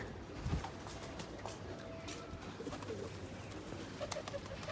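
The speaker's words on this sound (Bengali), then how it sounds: "কবুতরগুলো কিন্তু এখান থেকে ওইখানে এখান থেকে এখানে ওড়াউড়ি করতেছে" Pigeons in a loft, with soft cooing calls and wingbeats of birds flying from perch to perch inside, plus scattered rustles and a few brief knocks, moderately faint throughout.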